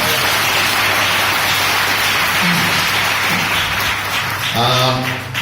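Audience applauding at a church gathering, a dense, sustained patter of clapping filling the room throughout, with a voice briefly speaking over it near the end.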